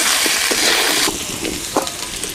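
Potatoes and arbi frying in a pan while being stirred, a loud steady sizzle with a few soft scraping knocks of the spoon, the sizzle easing off partway through.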